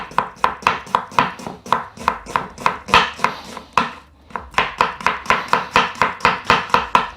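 A sharp knife finely slicing onions on a cutting board, a fast, steady run of crisp close chops with a brief pause midway, loud and without talk.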